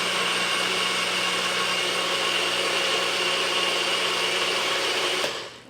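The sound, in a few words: electric mixer mixing chocolate chip banana bread batter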